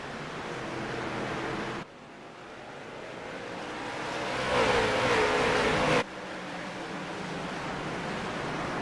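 Junior late model race cars in a video game race at the Las Vegas Bullring, a broad steady roar of many engines, swelling louder midway with a passing car whine before settling back to a constant drone.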